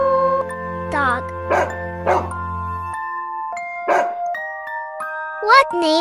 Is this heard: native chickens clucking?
no